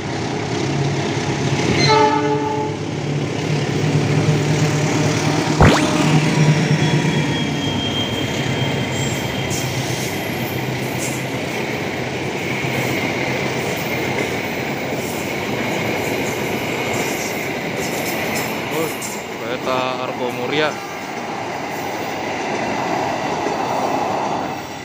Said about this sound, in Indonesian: Kereta Argo Muria di pagi hari.